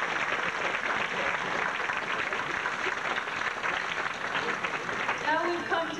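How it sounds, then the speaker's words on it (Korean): Sustained audience applause at a NAKASEC symposium on immigrant and Asian community rights, dense, steady clapping filling the room throughout with a faint voice emerging near the end. "다시 한번 힘찬 박수를 부탁드립니다."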